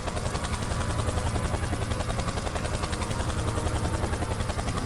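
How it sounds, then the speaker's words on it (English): Helicopter flying over a race, its steady thudding rotor and engine roar loud and continuous throughout with no talk. "From David's helicopter"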